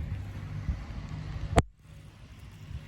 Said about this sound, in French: Le tracteur revient